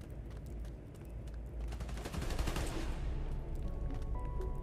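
Sustained automatic gunfire in Spider-Man: Miles Morales as people shoot at Transformers, a dense, steady rattle that swells louder midway and keeps going.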